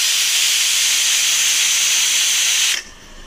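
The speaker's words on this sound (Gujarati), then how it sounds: "અને હવે આની 60 સીટી આપણે વગાડશું" A pressure cooker lets off a loud, steady hiss of steam close by, holding strong for almost three seconds before cutting off sharply into a quiet background.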